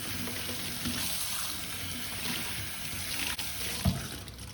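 Soapy cycling kit rinsed under a running tap into a sink, a steady close stream of water with occasional splashes and fabric handling, no voices.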